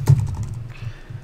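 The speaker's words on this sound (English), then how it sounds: "So I'm going to go ahead and type out the email address." Close, brisk computer keyboard typing while an email address is entered, a quick run of clicky keystrokes standing alone with no talking.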